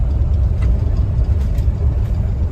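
The engine of a 2007 Ford E350 van rumbles steadily at low speed while it turns around, a close, continuous low drone with no talking.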